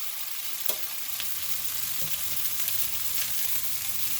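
Chicken and broccoli sizzle steadily in a frying pan, with a few soft scrapes and clinks from stirring and tossing over a continuous hiss, close and fairly loud throughout.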